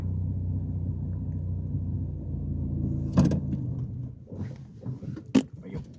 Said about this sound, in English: That was the softest stall.